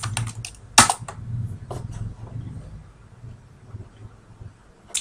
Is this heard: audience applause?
no